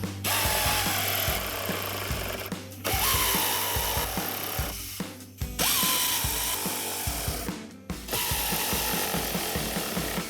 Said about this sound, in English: And now we're simply going to tighten our bolts.